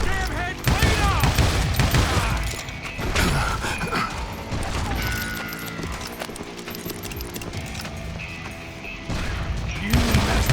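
Shotgun blasts and gunfire in the Wild West shooter Call of Juarez Gunslinger, loud repeated booming shots over dense game noise, rattling mechanisms and hoofbeats, with a gruff voice speaking amid the fighting.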